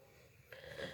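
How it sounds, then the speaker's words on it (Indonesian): One muffled, breathy cough bursts out abruptly midway from a speaker who is under the weather, quiet and close in an otherwise hushed room. "Maaf saya batuk ya, lagi kurang fit ya"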